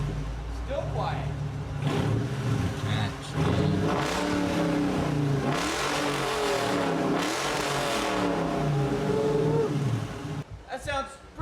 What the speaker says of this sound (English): Startup number 1. No rear mufflers.